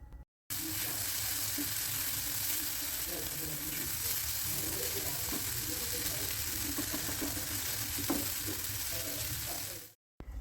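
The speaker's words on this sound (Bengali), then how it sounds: "প্রথমে ডিমটাকে এইভাবে একটু এক সাইডে রেখে ভেজে নিতে হবে এবার ধীরে ধীরে করে আমরা মশলার সাথে ডিমটাকে মিশিয়ে নেব" Egg frying with spices in a pan, a dense and steady sizzle that runs almost the whole time, with faint scraping and stirring noises mixed in and brief silences at the start and end.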